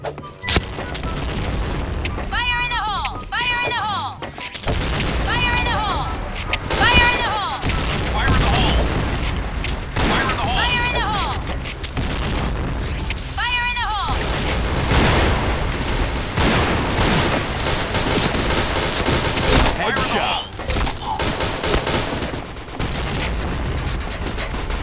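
Grenade blasts and bursts of gunfire in a shooter video game, a dense run of booms and shots over a steady loud game soundscape, with people talking over it.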